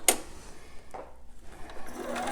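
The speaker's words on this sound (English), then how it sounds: "I just go ahead and secure it up and down with just a straight stitch right there, right on the edge" A sewing machine runs a straight stitch along the edge of a newborn romper, with short bursts of needle clatter and motor whir close up, alone with no voices.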